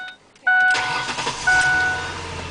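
A 2005 Ford Explorer with a 4.0 engine, just after a fuel filter change, gives a short electronic chime, then cranks and catches, settling into a steady, close idle with a second chime partway through.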